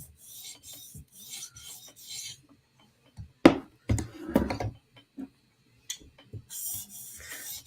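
Sharpening stone on a TSProf Kadet guided system drawn along a Chris Reeve Inkosi knife blade, several separated hissing rasp strokes with pauses between, plus a few sharp clicks and knocks from repositioning, fairly close.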